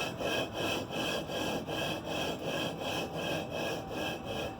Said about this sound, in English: All you're doing is kind of like lapping the valve to the seat.